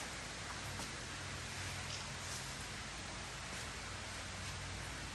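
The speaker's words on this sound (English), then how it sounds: "It is raining" Steady rain falls continuously around a mid-2000s Jeep Wrangler, a soft even hiss with faint scattered drops, quiet and unbroken throughout.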